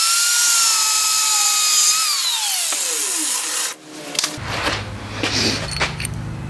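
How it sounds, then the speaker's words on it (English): A power tool cuts through leftover motorcycle brake line during a Honda Goldwing bobber fabrication, whining loudly and falling in pitch as it bogs into the metal, then giving way to a rougher grinding hiss and clatter with no talk. "we've got our leftover brake line right here, which I'm going to cut and then weld this little hoop to."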